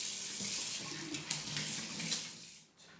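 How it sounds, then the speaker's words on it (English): Tap water runs into a sink while hands are washed before baking butterscotch scrolls, a steady soft splashing rush with small bumps that fades out near the end. "we'll start by washing our hands"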